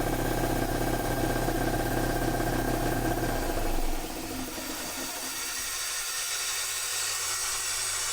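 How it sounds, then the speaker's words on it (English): An air conditioning compressor starts up and runs just after a repair, a steady droning hum with mechanical vibration that shifts in tone partway through and continues at an even, fairly loud level. "Yes, it makes compressor noises."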